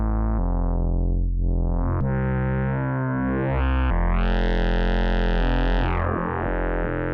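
Make Noise Mysteron-style Majella Implexus synthesizer with biased, asymmetric wave folding on low tones: sustained buzzy, harmonically rich drones that sweep and bend in timbre, shifting pitch in steps and growing brighter and harsher.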